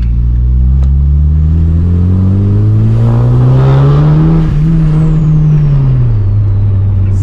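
A turbocharged Honda CU2 car engine revs hard on a dyno, a loud sustained climb in pitch that holds high, then dips and eases back, with a faint turbo whistle and no talk.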